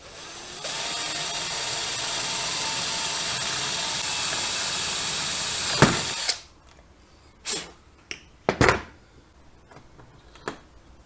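A power drill whirs steadily for about six seconds, biting into wood, then stops; a few clunks and rattles follow.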